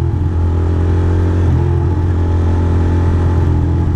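Royal Enfield motorcycle engine running steadily while riding, a loud continuous low thrum with a faint pitch shift midway, no talking.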